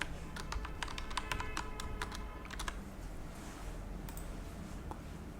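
Quick bursts of keystrokes tap on a computer keyboard close by, a cluster of crisp clicks followed by a few scattered taps over faint room hum, with no one talking.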